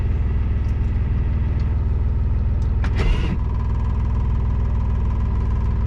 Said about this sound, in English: So we drive forward, tractor is moving